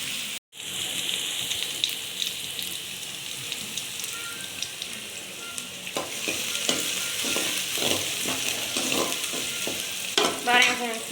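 Banana stem stir-frying in a pan, a steady close sizzle with a spoon scraping and stirring through it, clattering a little more toward the end.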